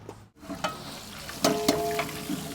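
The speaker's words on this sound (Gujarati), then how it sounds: "આની અંદર હવે સૂકો વઘાર કરી દઈશું પહેલાં" Dry whole spices, including cardamom and dried red chillies, crackle in hot oil for a tempering, with short sizzling bursts and a couple of sharp pops close by, and no voices.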